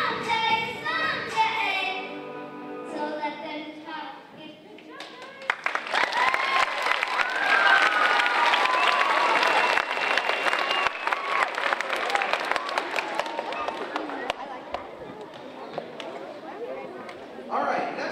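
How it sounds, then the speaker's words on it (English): Applause rises from an audience at an elementary school talent show, a broad wash of clapping and crowd noise lasting several seconds after children's voices and chatter at the start. "round of applause."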